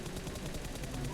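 Gunfire in PUBG Mobile on the Erangel map: a rapid, evenly spaced burst of automatic shots, loud and dense, continuing through the whole short moment.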